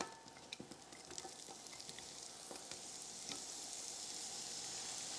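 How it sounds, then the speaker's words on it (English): Onion dropped into a hot frying pan starts a loud, dense sizzle that builds and holds steady, with a few light clicks at the start and no voices over it. "We're gonna drop just a little bit of onion on the side of that, around that."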